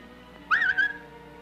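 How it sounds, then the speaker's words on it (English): Tarzan gives a playful Harpo Marx-style whistle in a 1938 film, a single short, bright whistle that rises and dips in two quick parts against a quiet background. "Tarzan gestures to her, doing kind of this Harpo Marx whistle thing"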